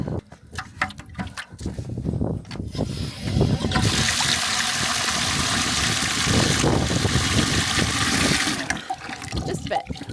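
Water pouring and splashing into a container for geese on a farm in winter, a loud rushing stream that swells, steadies for several seconds, then tapers to trickles, heard up close.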